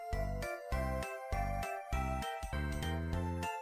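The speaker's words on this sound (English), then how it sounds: "I've been hearing like my phone vibrating." A phone notification chime plays a bright, tinkling melody of repeated tones in a steady rhythm, clear and close, with no talk.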